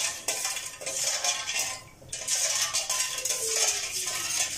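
A metal spoon scrapes and clinks against a pot while stirring boiling sugar syrup for orange popsicles, in repeated strokes with a short pause midway.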